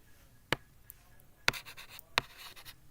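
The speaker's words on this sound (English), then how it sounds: "Here I am going to write it again." Three brief chalk or marker strokes on a board during a biochemistry lecture, short scratchy bursts spaced about a second apart in a quiet room.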